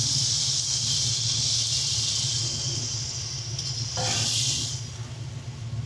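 Water poured into a pan of raw banana curry sets off a broad steady sizzling hiss, with a brief sharper burst of spitting steam near the end, close and alone.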